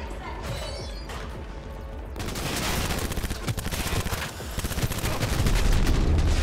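Rapid bursts of gunfire in Cyberpunk 2077, loud and dense, with sharp repeated shots building into sustained volleys, close up and nearly continuous, with a brief quieter lull early before heavy firing resumes.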